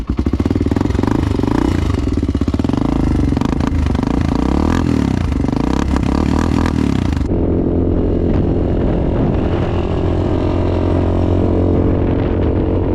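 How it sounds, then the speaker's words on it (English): A Honda 400EX ATV engine idles loudly and steadily while warming up on a cold start, a close, continuous rough rumble that drops slightly in pitch midway. "It is a little bit cold-blooded, so I'm gonna let it warm up"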